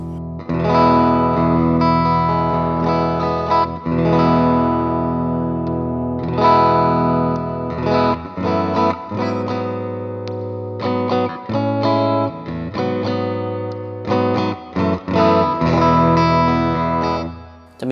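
An overdriven Umeda UST-20 electric guitar with a coil-split humbucker plays a choppy riff of strummed chords and short muted stabs, bright and punchy, continuing loudly throughout with no voices.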